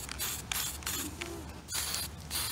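Several short hissing bursts of spray primer coat a white model in quick succession, each close and sharp with brief gaps between them, and no one speaks.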